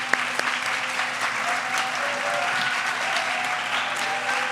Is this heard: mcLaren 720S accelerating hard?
no